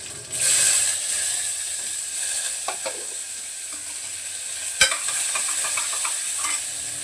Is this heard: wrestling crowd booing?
no